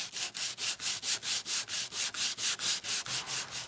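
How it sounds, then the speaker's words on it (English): Rhythmic rubbing of a fine sanding pad over a stamp, about fourteen quick, even back-and-forth strokes, close and soft, with nothing else audible. "Just lightly go in all four directions over the stamp."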